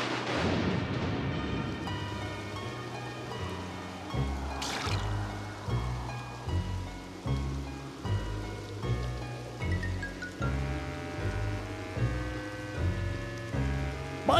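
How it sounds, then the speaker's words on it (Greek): Cartoon rain sound effect, a steady patter of falling rain running throughout under music, with no talk. "Όμως βρέχει."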